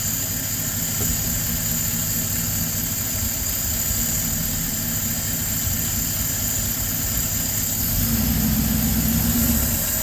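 A LaSalle car engine idles with no choke, suffering fuel starvation, in a loud, steady, close drone with a slight rise in rumble near the end.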